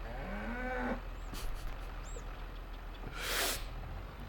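A tractor horn in Farming Simulator 22 that sounds like a distressed cow gives a faint, drawn-out lowing moo, followed by quieter game ambience and a brief hiss burst.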